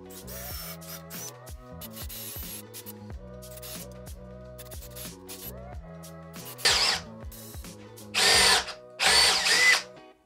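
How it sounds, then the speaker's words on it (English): A power drill whirs in repeated short bursts, speeding up and slowing down as it bores holes in an old fence for hanging a gate, followed by louder, harsher drilling near the end as the bit breaks; close by. "first I have to drill all these holes."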